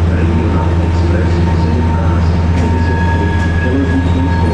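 A train pulls into a platform at Košice railway station, track 9, producing a loud, steady rumble with sustained tonal whines and a faint screech that continues throughout.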